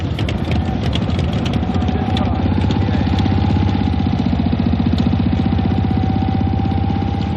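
A Harley-Davidson motorcycle engine rumbles through its exhaust pipes in a loud, steady, close idle with a deep throbbing pulse and no pauses.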